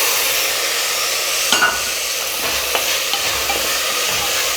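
Fresh green peas are stirred into a sizzling pot of coconut milk biryani, a constant frying hiss broken by a few sharp spoon scrapes and knocks against the pan, with no talking.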